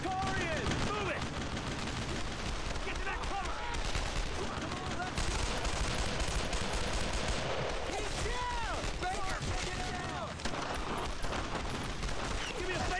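A World War II firefight in Brothers in Arms: Road to Hill 30, with dense, loud, continuous rifle and machine-gun fire and explosions, and soldiers' shouts mixed into the battle.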